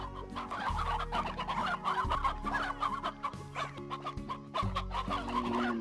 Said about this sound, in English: How are my chickens doing?